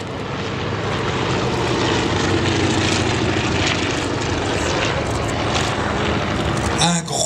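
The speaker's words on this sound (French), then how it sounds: "le Junkers 52, le plus bel avion de ligne européen" A loud, steady drone of the three propeller engines of a Junkers 52 trimotor airliner roars throughout, with a brief change in the noise near the end.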